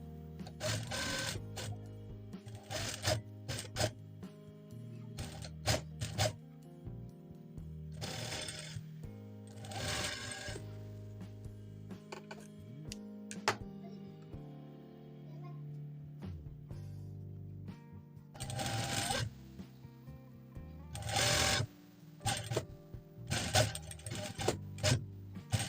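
A sewing machine stitches fabric pieces together for a bustier tube top, running in repeated short bursts of rapid mechanical chatter with pauses and handling sounds between, close and clear.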